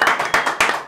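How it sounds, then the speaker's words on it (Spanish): A few close hand claps from an audience, three quick loud bursts in under a second. "un aplauso señores."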